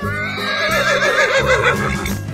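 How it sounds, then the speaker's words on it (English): A horse whinnies loudly in a long, wavering neigh, close and clear over faint background music, in an animal-guessing escape room game. "Horse."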